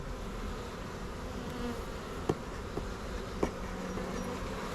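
Honeybees buzz steadily around a hive that has just had a second deep brood box added, a close, continuous drone with a few faint knocks over it.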